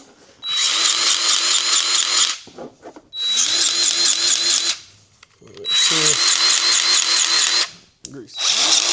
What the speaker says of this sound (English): I'm going to use my electric grease gun.